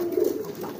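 A male pigeon in the early, loose phase of courtship cooing (giring kendor) gives one short, low, throaty coo nearby, rolling briefly and then fading.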